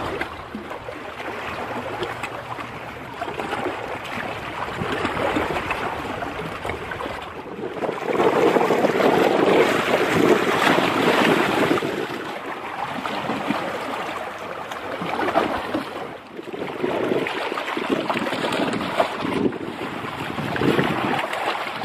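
Water sloshes and surges outdoors in stormy weather on a fishing outing, with wind buffeting the microphone; a loud, continuous churning wash that swells and eases in waves, no one speaking.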